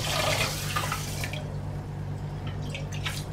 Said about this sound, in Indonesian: Tambahkan air.